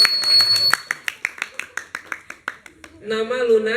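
A small group claps in a steady, regular rhythm for Luna, a teenage girl at a youth camp session, with distinct individual hand claps close by; speech follows at the end.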